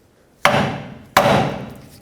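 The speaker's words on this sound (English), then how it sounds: "Then we're going to break free the ball joint from the knuckle with a hammer." Two sharp hammer blows strike a lower ball joint to free it from the steering knuckle of a 2007-14 Chevy Silverado, each a loud close metallic impact with a ringing decay, spaced under a second apart.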